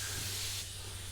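A paint spray gun lays down candy blue paint with a steady, close, loud airy hiss that continues throughout and drops slightly partway through.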